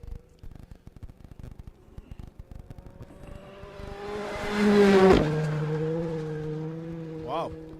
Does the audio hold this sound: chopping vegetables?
no